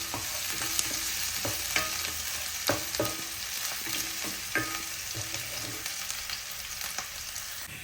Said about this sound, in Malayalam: ഒന്നൊരു ബ്രൗണിഷ് കളർ ആവണ വരെ നമുക്കിതൊന്ന് ഇളക്കിക്കൊണ്ടിരിക്കണം.